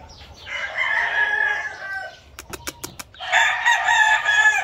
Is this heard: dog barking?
no